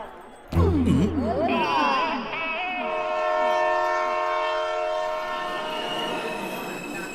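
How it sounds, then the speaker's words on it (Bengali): A train pulling into a station sounds a loud, sustained horn over its rumbling, clattering approach, the horn blaring close and holding for several seconds. "ট্রেন চলে এসছে"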